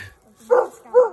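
A coonhound barks twice out on a West Virginia coon hunt at night. The two short, fairly loud barks come close by, about half a second apart.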